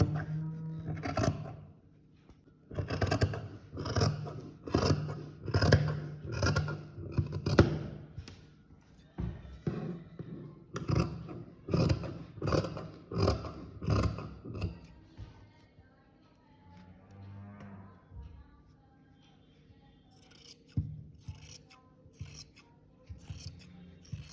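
Scissors cut fabric for a palazzo-style salwar, snipping in quick rhythmic bursts for about fifteen seconds, close and crisp, then falling to quieter, sparser cuts.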